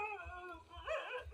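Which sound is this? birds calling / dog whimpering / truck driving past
dog whimpering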